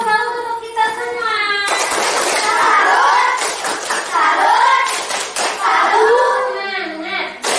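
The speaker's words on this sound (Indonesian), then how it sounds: "Beri tepuk tangan untuk kita semua." A school class claps together as a group, a burst of hand applause mixed with loud children's and teacher's voices talking and chanting over it.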